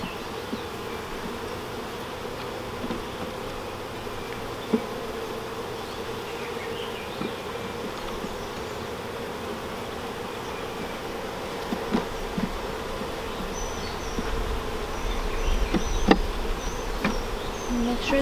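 Honey bees buzz around an open hive during an inspection, a dense continuous hum with scattered closer passes of individual bees and a few faint knocks of equipment.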